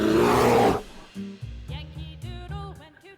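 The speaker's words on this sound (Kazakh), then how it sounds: "аю" A bear gives a short loud rasping growl, then a run of lower grunting and huffing calls with tonal, wavering moans, close and alone.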